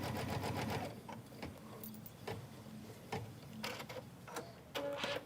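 A Kimberbell embroidery machine stitches quilt fabric with a steady, rapid mechanical ticking and whir, quiet and close, with small clicks and shifts in rhythm throughout.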